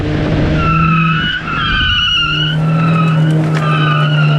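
A Chevrolet Cobalt SS with a newly fitted rear sway bar squeals its tires through quick slalom turns, loud close tire screeching in sweeping tones over the running engine drone.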